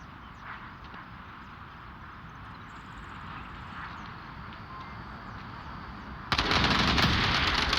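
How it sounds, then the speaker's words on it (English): AK-12 rifle gunfire in a competitive shooter match sounds as faint, distant bursts under a steady background rumble. A sudden loud, close burst of noise cuts in near the end. "He hears the AK-12 where he shouldn't hear it."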